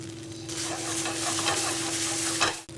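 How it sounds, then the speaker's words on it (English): Mashed potatoes roast in a pan with chilies and ginger, giving a steady close sizzle with soft stirring scrapes and a sharp clatter near the end. "So now this mashed potatoes will start getting roasted over the pan along with the chilies and ginger."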